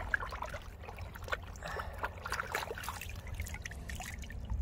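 Water trickles and splashes in an outdoor stream as a freshly cleaned trout is rinsed, a close, uneven dribble with small splashes over a low rumble of moving water and wind.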